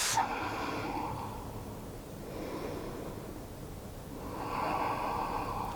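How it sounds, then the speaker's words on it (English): Slow, deep breaths, drawn in and pushed out through the nose during a seated yoga stretch, soft and close, with long airy inhales and exhales and no speech over them. "Continuing to take full deep breaths"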